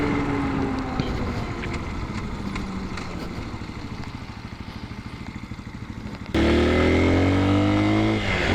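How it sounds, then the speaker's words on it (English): A dual sport motorcycle engine runs steadily with a rough, throbbing idle, then rises sharply into a loud rev near the end, close to the microphone. "Motorcycle."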